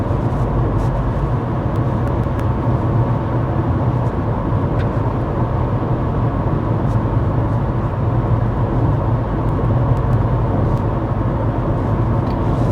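Steady broadband road and wind roar inside a 2024 Hyundai Kona cruising at 55 mph with the fan on its lowest setting, a constant low rumble with no voices and no change in level.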